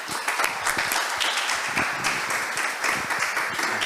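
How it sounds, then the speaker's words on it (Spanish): A crowd at a church conference in Peru claps and applauds continuously, a dense, energetic patter of many hands, close and fairly loud. "Un aplauso para Cristo, por favor, los que estamos aquí."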